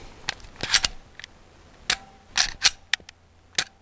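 Rifle shots from an AHSS KOR FXS 9 at a range: about seven sharp, crisp cracks in irregular spacing, some in quick pairs, fairly close, with no talk.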